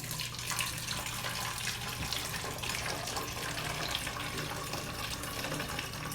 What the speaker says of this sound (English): Now I'm going to pour my bleach water into my bottle.